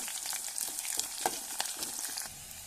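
Green chillies crackle and sizzle in hot oil at the start of cooking a masala chana dal curry, a close, busy frying sound with scattered pops and no talk.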